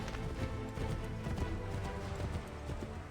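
Rapid, continuous clip-clop of horse hooves in the video game Assassin's Creed 3, galloping through Boston streets at a steady rhythm, set against a dense background.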